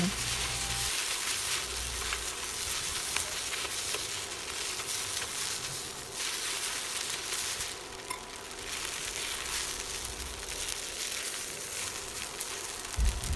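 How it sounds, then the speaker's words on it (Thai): Shrimp stir-fried in a pan for a glass noodle dish with chili paste and minced pork, giving a steady, close sizzle with scraping and stirring throughout and no talk. "แล้วเราก็ใส่กุ้งลงไป ผัดให้กุ้งสุก"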